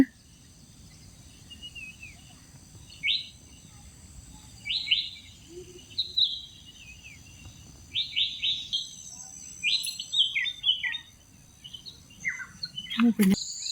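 Birds chirp in short, bright bursts scattered through a quiet outdoor scene at Gudavi Bird Sanctuary, Soraba, Shivamogga, with a faint low rumble underneath.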